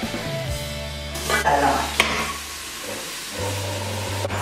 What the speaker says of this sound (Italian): Inseriamo anche la carota e il sedano nell'aglio che ho messo per fare il soffritto.